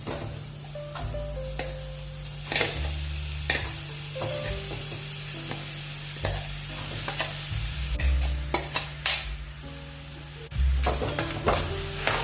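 Soy chunks sizzling and crackling as they fry in a pan while a utensil scrapes and stirs them in irregular strokes, with occasional clinks of metal.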